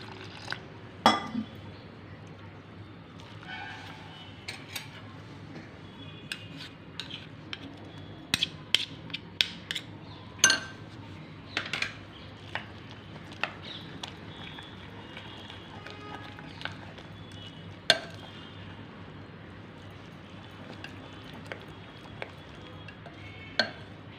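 Bread crumbs and water are stirred into a runny batter in a mixing bowl, with scattered soft scrapes and light clinks of a utensil against the bowl over a low steady background hum.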